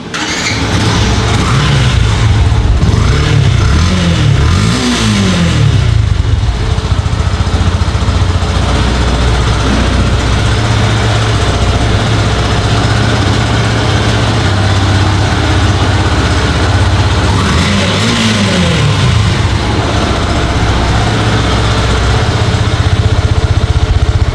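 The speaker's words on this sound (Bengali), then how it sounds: "এখন আমরা এই বাইকটা স্টার্ট দিয়ে সাউন্ডটা দেখাবো" A Yamaha FZ V2 motorcycle engine cranks and catches, then settles into a loud, steady idle that runs close and continuous throughout, with no voices over it.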